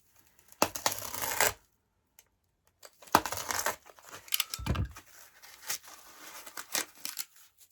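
Scissors or a blade cuts a small wedge out of packing material: close, crinkly snips and rustles come in short, separate bursts with quiet gaps between them, and nobody speaks.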